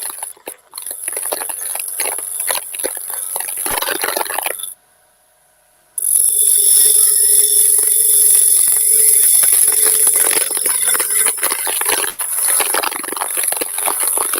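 A wood-turning gouge cuts timber spinning on a lathe, a loud, continuous whirring scrape that stops briefly and then resumes, steady and close.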